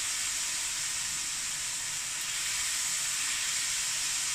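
Duck and sauce frying in a hot pan, a steady, bright, hissing sizzle heard up close and unbroken for a few seconds with no speech.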